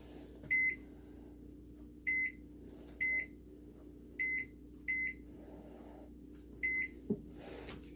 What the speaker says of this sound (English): Let's see what the timer sounds like on this one.